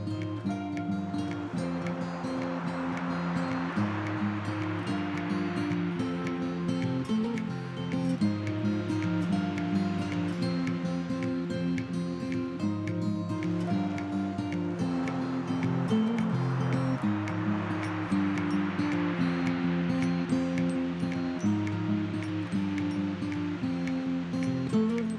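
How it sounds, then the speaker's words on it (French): Waves breaking and washing over a pebble beach at Étretat, a steady loud surging roar that swells and recedes in broad washes, with no voices. "Les vagues qui tapent dessus, on entend ce bruit"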